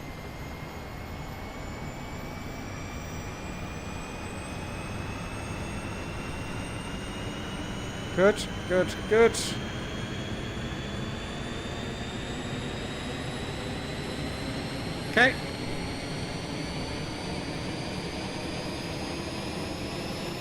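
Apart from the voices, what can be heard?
Airbus jet engine cabin sound in Microsoft Flight Simulator video game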